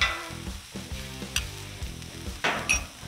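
Onions, green peppers and minced garlic sauté in a pan, a soft sizzle broken by repeated stirring scrapes and a few sharp clinks of utensil on pan, close and quiet, without talk.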